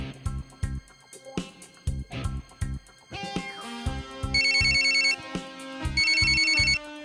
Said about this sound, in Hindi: एक्सक्यूज मी, यादव सर का फोन